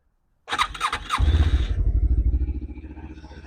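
A Lifan KPT 400 motorcycle turns over with a few cranking pulses, then catches and settles into a loud, close, rhythmic idle that gradually softens.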